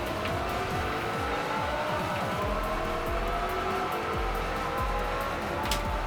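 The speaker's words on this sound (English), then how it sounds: "so you can hear the exaggerated exhaust tones of the cars" Racing car engines and exhaust in the Xbox 360 game Forza Motorsport 4, a steady low engine drone with shifting revs, fairly quiet and unbroken.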